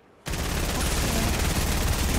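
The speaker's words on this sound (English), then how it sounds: "Why is he shooting with his... Is that an SMG or the combat AR?" Sustained rapid automatic gunfire from an SMG or combat assault rifle in the Fortnite video game, bursting in abruptly after a brief quiet moment and continuing loud and dense to the end.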